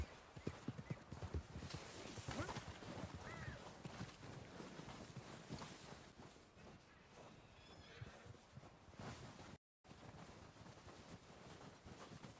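Galloping horse hooves in Red Dead Redemption 2, an Arabian horse, pound in a steady rapid clip-clop with a brief whinny and wind rushing, continuous and fairly loud apart from a momentary dropout near the end.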